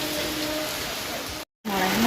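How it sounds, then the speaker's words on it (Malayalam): Steady rain falls outdoors near a temple path by a stream, a broad even hiss that cuts out briefly and returns, with low voices faintly underneath. "മഴയുണ്ട്."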